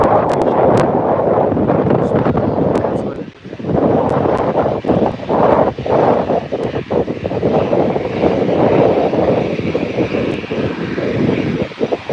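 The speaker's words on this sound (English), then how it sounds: "Sorry, it's a bit windy today here in Birmingham." Loud, continuous wind buffeting the microphone at Birmingham Airport, rumbling and gusting, with a steady jet engine roar underneath and no talking.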